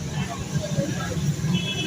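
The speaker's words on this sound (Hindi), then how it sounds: "इधर ट्रैफिक का शोर भी बहुत है" Steady road traffic rumbles and hums outside a roadside bicycle repair shop, a constant low wash of passing vehicles with people talking nearby over it.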